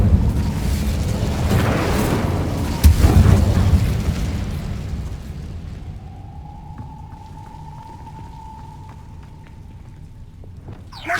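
Incendio fire spell in Hogwarts Legacy bursting loudly with a deep boom and roaring flame, then decaying into a long crackling fade, followed by a faint steady tone and quiet ticks.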